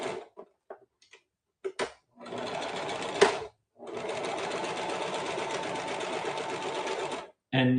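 A domestic sewing machine stitching with thread fed from a normal-size spool on a separate thread stand: a few short bursts, then a steady close whirring run broken by a brief stop, then starting again.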